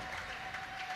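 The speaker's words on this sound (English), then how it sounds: "I'm sure you can hear some cheers and some shouts of "Come on, Grace!"" Home crowd cheering and calling out in support of Grace Williams in the stands at the European Para Table Tennis Championships, a steady broadband roar of applause and shouts heard from close by, continuous across the short moment.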